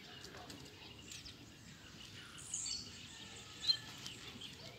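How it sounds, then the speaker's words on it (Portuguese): Coleiro (double-collared seedeater) birds singing outdoors, faint high chirps and quick tweets scattered over a quiet background, with one sharper call standing out near the end. "Ó a velocidade que os passarinhos cantam."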